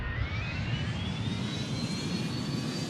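Jet airliner engines roar steadily at an airport runway during takeoff, a loud broadband rush with a slowly rising whine on top, heard alone with no talk.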